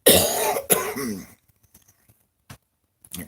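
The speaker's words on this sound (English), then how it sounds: "That cough is going to give me fits the entire show." A person coughs and clears their throat in a couple of harsh bursts up close at the start of a farm livestream, followed by near silence with faint small noises.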